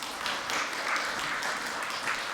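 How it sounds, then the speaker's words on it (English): An audience at a cybersecurity conference applauds as a speaker is welcomed to the stage, a dense, even wash of many hands clapping at moderate loudness with no voices over it. "give a big round of applause for Richard Billington"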